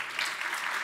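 Audience applause at a conference opening session, a dense wash of clapping heard briefly and steadily.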